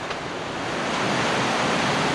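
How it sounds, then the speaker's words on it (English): Rushing water of an underground river flowing through a cave beneath a mountain in Thailand, a dense, steady roar that swells slightly louder, close and without speech. "it's a river under a mountain."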